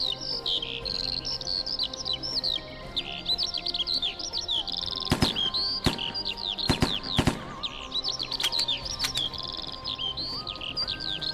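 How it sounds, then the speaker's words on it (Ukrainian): Many birds chirp and tweet loudly and continuously in high, rapid trills in a video game, with a few sharp clicks cutting through midway. "Ух, пташки, ви дуже голосні."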